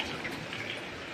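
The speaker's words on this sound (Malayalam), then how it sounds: "ഇവിടെ നല്ല മഴയുണ്ട്." Heavy rain falls outside a second-floor home, a dense, steady patter of drops that continues without a break, with no voices.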